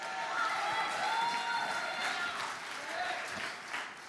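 Congregation at a revival meeting clapping and shouting praise, sustained crowd noise with raised voices and cheering mixed through the clapping.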